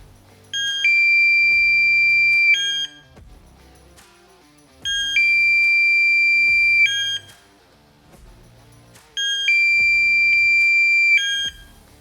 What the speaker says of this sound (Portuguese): Aqui nós temos uma sirene endereçável.